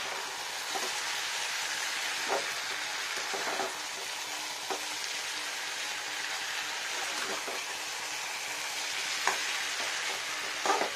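Spice paste (kosha) frying in oil, with the oil starting to separate, gives a steady, even sizzle and occasional soft stirring clicks throughout, with no talking.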